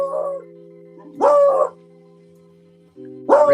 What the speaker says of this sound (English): we have a beagle that doesn't know how to shut his mouth